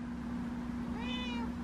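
A house cat meows near a garden compost pile, a single drawn-out, rising-and-falling cry heard close and clear over a steady low hum, with no talking.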